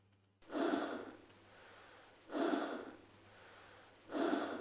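Three slow, heavy breaths from the Half-Life video game sound effect, each a loud, rasping inhale-exhale swell separated by quiet pauses, steady and close, with a faint low hum underneath.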